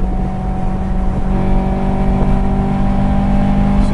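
A Honda S2000 with a single-pipe exhaust revs its naturally aspirated engine, a loud close tone with a steady harmonic whine that rises slightly before settling, heard alone without speech.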